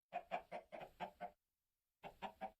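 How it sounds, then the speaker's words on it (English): Chicken in the Minecraft video game clucks in a quick run of about six short clucks, pauses in silence, then clucks three more times, clear and close with nothing else around. "We got a chicken."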